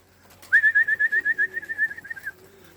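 Racing pigeons returning to their loft give a single close, rapid series of about fifteen pulsed, rolling call notes lasting roughly two seconds, then fall quiet; no one speaks.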